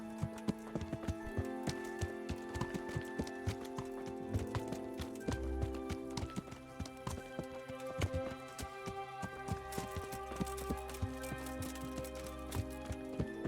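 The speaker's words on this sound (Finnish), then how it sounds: "Takaperin kun mä paakataan hevosella" Horse hooves clip-clop steadily as a rider travels in Kingdom Come: Deliverance, the even beats running the whole time over a continuous musical backdrop, with no talk on top.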